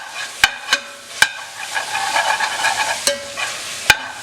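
Chili powder and turmeric being stirred into a beef curry in a pan, a soft sizzle under a series of sharp spoon knocks against the pan, about six clicks spread over a few seconds.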